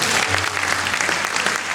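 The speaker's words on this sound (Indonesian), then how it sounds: "Tepuk tangan buat kita semua." Audience applause at a praise and worship training session in Bandung, a dense, steady roar of many hands clapping, fairly loud and sustained, with a low hum beneath it.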